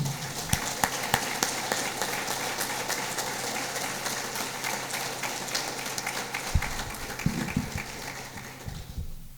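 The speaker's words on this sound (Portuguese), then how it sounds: "pedir uma salva de palmas" Scattered applause from a crowd at a formal session of a municipal council chamber fills the space, steady and moderately distant, with a few louder thumps toward the end.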